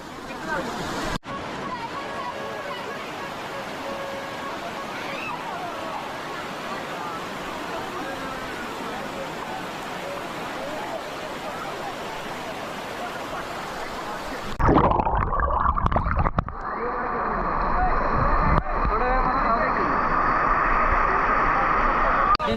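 A small waterfall where people are playing in the water makes a continuous rushing roar with a babble of voices. The sound shifts sharply partway through as it becomes louder and brighter.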